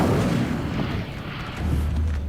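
Hogwarts Legacy's Incendio fire spell erupts in a loud, rushing burst of flame and then settles into a low, booming roar that swells again near the end.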